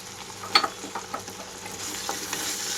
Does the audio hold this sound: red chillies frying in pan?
yes